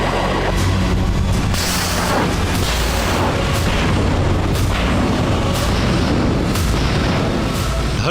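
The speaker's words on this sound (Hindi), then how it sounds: "जहाजों से मिसाइलें दागी जा रही हैं।" Missiles launched from warships during a Russian military exercise: a loud, continuous roar of rocket blasts and booming bursts, repeated rumbling reports dense throughout with no speech.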